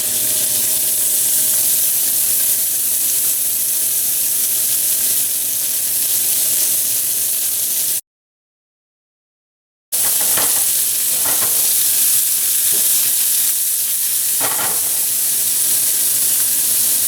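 Steak sizzles steadily in olive oil over medium heat alongside browned garlic, a loud continuous frying hiss broken by a brief silent gap, with a few sharper crackles and pops afterward.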